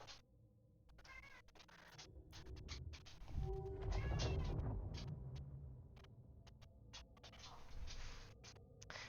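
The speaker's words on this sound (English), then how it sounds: "if you can hear the Boris cat, he's getting dinner, so he's very excited" Boris, a pet cat excited about dinner, lets out a few short meows at moderate distance, spaced apart between light ticking and scratching noises.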